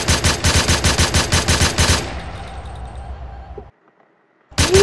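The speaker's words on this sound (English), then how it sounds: "This is the AUG red dot." An AUG rifle fitted with a red dot sight fires in the GTA video game: a rapid, loud burst of evenly spaced shots for about two seconds, then a fading echo, brief silence, and another shot at the end.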